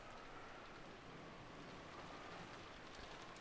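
Steady rain pours in the Umineko visual novel, a dense, even hiss of falling water with a low rumbling wash underneath, holding constant throughout with no voices.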